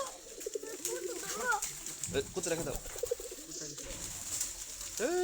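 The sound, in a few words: pigeons cooing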